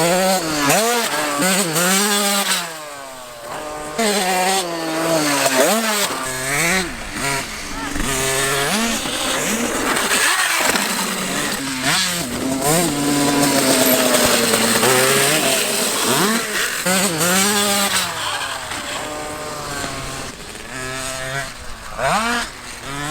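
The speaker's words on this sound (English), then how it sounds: "Nothing like a dirt bike sound" A KTM dirt bike engine revs repeatedly, its pitch sweeping up and down in rising and falling blips over a steady loud idle, close by, with occasional voices underneath.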